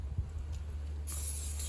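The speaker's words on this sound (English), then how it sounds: "Spray the inside of this as well." Spray lubricant hisses steadily from an aerosol can onto Ford/New Holland front axle hub parts during a rebuild, a close continuous spray that starts partway through after a quiet workshop lull.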